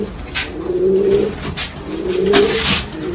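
Pure Fulsia pigeons cooing in a loft, two drawn-out throaty coos close by, separated by a short pause, with faint rustling around them.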